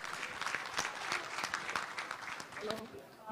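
Audience applause at a post-budget business breakfast, a short burst of clapping from a room of people, fairly faint and steady.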